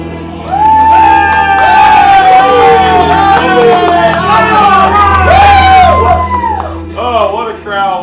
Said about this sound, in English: Oh, what a crowd, what a crowd,